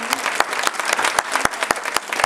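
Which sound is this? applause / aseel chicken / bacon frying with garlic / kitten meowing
applause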